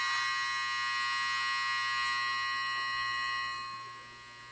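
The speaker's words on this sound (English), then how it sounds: "That was my dryer." A clothes dryer gives off a steady, loud high-pitched electronic buzz or beeping tone that holds evenly and then fades toward the end, with no talking.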